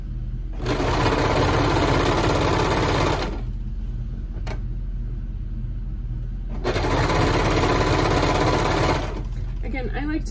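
Sewing machine hemming a tee sleeve runs in two loud bursts of rapid mechanical stitching, each about two to three seconds long, separated by a quieter pause.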